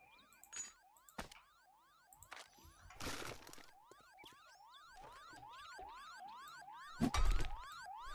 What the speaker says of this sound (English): The alarm going off.